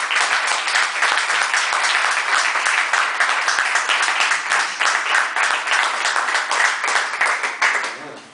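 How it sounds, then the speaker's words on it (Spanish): An audience at a book presentation bursts into sustained applause, dense steady clapping from many hands lasting several seconds before fading at the end. "Pues yo creo que se merece un aplauso."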